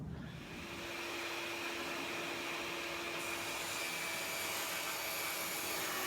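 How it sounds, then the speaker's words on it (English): A power saw runs steadily and loudly while cutting large panel sheets down to smaller sizes, a continuous whining drone with a slight shift in tone partway through. "So right now I'm going to start cutting some big sheets down to smaller sizes."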